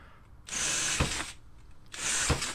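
A power drill enlarging holes in an old metal colander: two bursts of high, harsh whirring and grinding with a sharp bite partway through each, close and fairly quiet with short pauses between.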